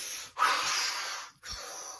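A voice imitates a woman's heavy breathing while asleep: one long, airy, hissing exhale followed by a shorter breath, close and fairly quiet.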